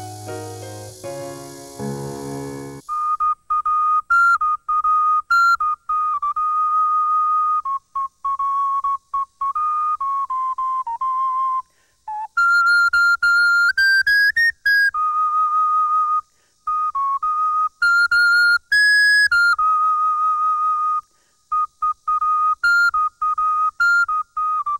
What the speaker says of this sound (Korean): 그는 시간 날 때면 오카리나로 마음을 달래왔는데요